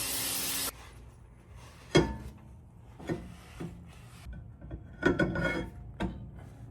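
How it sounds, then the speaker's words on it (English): A loud, steady hiss of brake cleaner sprayed onto rear brake parts of an Infiniti Q50 lasts under a second at the start, followed by scattered clanks and rubbing of the parts being handled. "Spray of brake clean"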